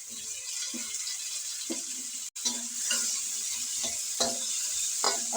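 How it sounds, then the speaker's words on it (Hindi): Potatoes frying and being stirred in a pan with ginger and garlic, a steady sizzle with repeated scraping stir strokes and a brief clatter midway, close and fairly loud. "तो अब हम इसमें डालेंगे आलू।"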